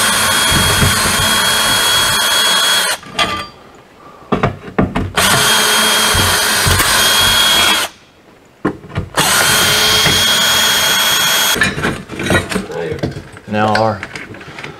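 Power drill loudly backing screws out of the cooling fans on an RV refrigerator during a cooling unit replacement, several long whirring bursts with brief pauses between them.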